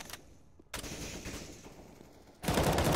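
Gunfire in Counter-Strike on the Train map, bursts of rapid shots that drop away into a lull before a loud new volley erupts at the end.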